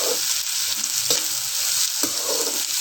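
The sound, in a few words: green chilies frying with onions in a pan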